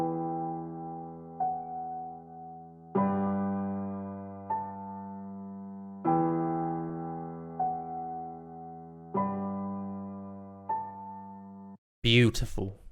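Slow, halftime version of an emotional music loop intro, built from sustained piano-like chords that change every few seconds, calm and spacious, ending in a short burst of different sound.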